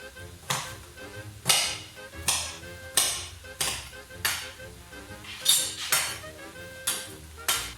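A knife working jalapenos on a cutting board, with about a dozen sharp, evenly spaced knocks and scrapes against the board, close and distinct, each one ringing briefly.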